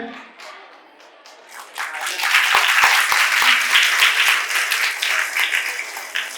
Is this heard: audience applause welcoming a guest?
yes